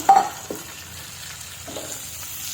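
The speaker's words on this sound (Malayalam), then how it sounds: "ക്യാപ്സിക്കം ചേർത്ത് ഇളക്കുക" Capsicum sizzles gently in a pan of chicken liver masala, with a few spoon scrapes and clinks as it is stirred over a soft, steady frying hiss.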